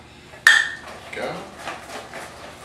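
A spoon clinks and scrapes against a bowl while halved pecans are stirred into a bourbon pecan tart filling, with one sharp metallic chink followed by softer, rhythmic stirring scrapes, close and clear.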